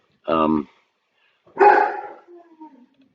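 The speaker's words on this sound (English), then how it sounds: "I don't know what my dog suddenly got at." A dog barks in a short, loud burst at close range, followed by a voice shouting over it and then talking.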